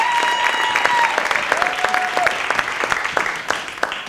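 A round of applause from the audience at a 50th birthday celebration, dense and close, with a few sharp claps standing out and voices calling over it as the clapping thins near the end.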